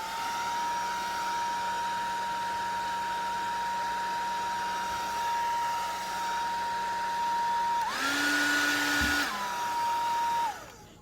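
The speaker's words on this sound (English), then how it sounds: "I'm going to go ahead and use the hairdryer on it" A hair dryer drying watercolor paint blows with a steady whirring hum, then its pitch jumps higher for a couple of seconds before settling back and cutting off.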